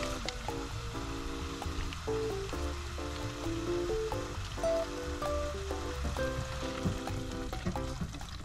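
Trader Joe's tikka masala curry sauce simmers in a pot, giving a soft, continuous sizzling bubble that stays faint beneath steady background music.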